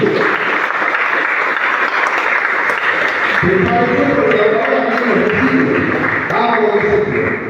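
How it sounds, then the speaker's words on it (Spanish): Sustained applause from a church congregation fills the space loudly and steadily, with music or voices rising underneath partway through. "Den un aplauso al Señor."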